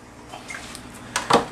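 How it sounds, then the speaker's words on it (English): Water poured into a plastic plant starter tray for tomato cuttings: a few soft drips and trickles, then a brief closer splash near the end. "Put a little bit of water in here."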